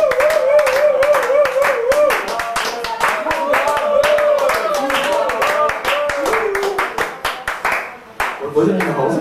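Steady rhythmic hand clapping from a crowd at the Hey!Day Tempelhof event runs throughout, close and loud, with a melodic voice singing or chanting over the beat and other voices mixed in.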